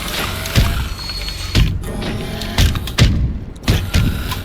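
Walking tanks stomping in the Mass Effect video game, heard as a series of heavy booming thuds about every half second to a second over a steady mechanical hum.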